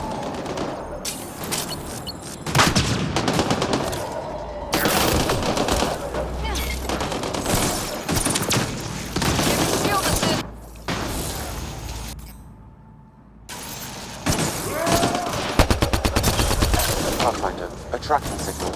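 Heavy sustained gunfire in Mass Effect: Andromeda, rapid automatic bursts and blasts nearly continuous with brief lulls, loud and close, with voices speaking at times.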